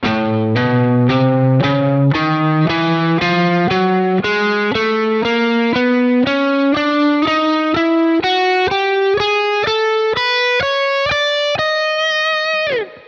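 Distorted electric guitar plays a steady run of single picked notes climbing step by step, four notes per string with chromatic passing notes between scale tones, each note clear and evenly spaced, loud and up close.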